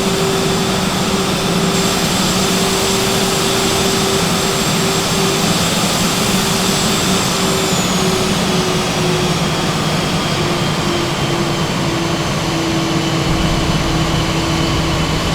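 A British Airways jet airliner's engines roar steadily on the runway during takeoff roll, a loud constant whine and rumble with a sustained tone heard from inside the aircraft.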